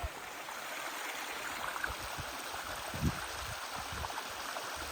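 A stream spills over rocky cascades on a waterfall hike in Los Padres near Santa Barbara, California, giving a faint, steady rushing wash with a few soft splashes and gurgles.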